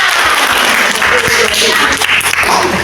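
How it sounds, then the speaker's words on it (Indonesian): Loud, dense clapping from a group fills the whole clip, steady and close, with a voice faintly mixed in underneath. "Oke, tepuk tangan."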